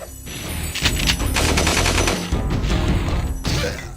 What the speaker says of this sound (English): These Gnorcs come with machine guns!